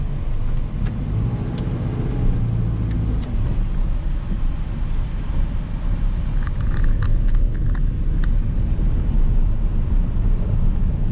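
A TERACO H100 light truck with a 970 kg payload and Mitsubishi engine drives along a road, a steady broadband engine and road rumble with wind buffeting throughout, close and fairly loud.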